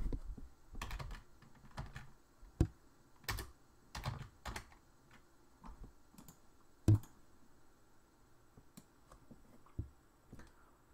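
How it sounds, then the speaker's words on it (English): Keyboard typing in uneven bursts of key presses, with a few sharper mouse clicks mixed in, close and fairly quiet over a faint room hum. "type the name of the person you would like to start in the chart and click on Get Chart button"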